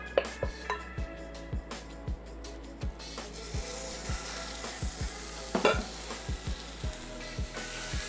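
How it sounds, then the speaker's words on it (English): Homemade pork breakfast sausage, ground meat, fries in a pan with a steady close sizzle, while a utensil strikes and scrapes the pan in a regular rhythm about twice a second. "I'm gonna take my pork breakfast sausage that we made earlier, and we are just going to throw this into this pan."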